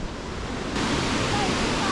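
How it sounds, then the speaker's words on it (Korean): Steady, loud rush of water flowing through Takachiho Gorge in Japan, a continuous broad roar with no pauses, swelling slightly partway through. "물소리 좋다"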